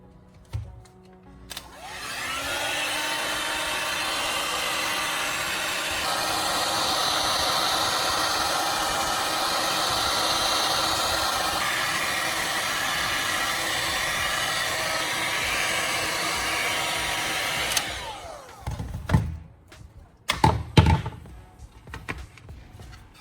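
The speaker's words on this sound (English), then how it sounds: "you warm each piece with a heat gun until the plastic softens" Heat gun blowing a steady, loud airy hiss while warming PVC plastic pieces to soften them. It runs for about sixteen seconds, then cuts off, followed by a few knocks and handling noises.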